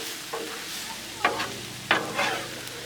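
Shrimp stir-fry sizzles on a Blackstone griddle while a spatula scrapes through it in a few distinct strokes, close up, over a steady frying hiss.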